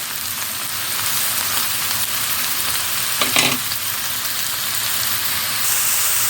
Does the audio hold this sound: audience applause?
no